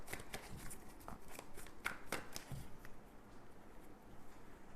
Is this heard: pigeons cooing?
no